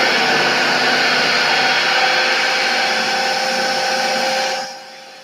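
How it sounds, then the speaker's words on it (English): A kitchen blender runs steadily at full power, whirring loudly as it mixes thick paleo chocolate chip cookie dough until creamy, then winds down and cuts off near the end. "we're going to go back to making some noise on the blender"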